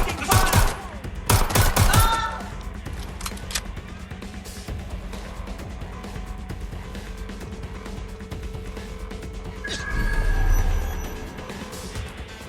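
Rapid bursts of automatic gunfire from Watch Dogs: Legion crack out loud and close at the start, then fade into a quieter stretch of scattered shots and traffic noise, with a louder rumbling swell near the end and some voices.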